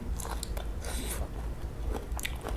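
Crisp bites and chewing on stir-fried okra in oyster sauce topped with fried shallots, close and fairly soft, with several crunchy bursts across the moment and no talking.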